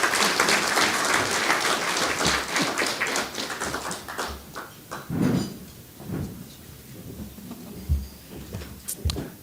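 A round of applause for a speaker at a corporate sustainability report launch: steady, dense clapping from an audience that thins out over several seconds into scattered claps.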